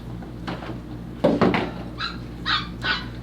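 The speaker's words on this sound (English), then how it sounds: "Dogs?" Dogs bark as a sound effect in a stage play, a few short barks and yips at moderate distance over a quiet room hum, with a knock-like thump among them.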